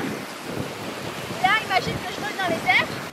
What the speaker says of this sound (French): Il y a un vent parfait.